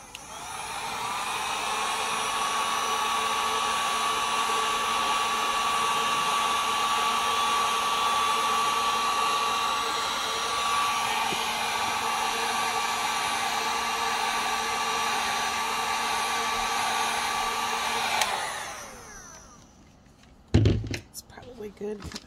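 A heat gun blows steadily for about eighteen seconds, smoothing hot glue drips on a tumbler, then cuts off, and a few knocks and clunks follow.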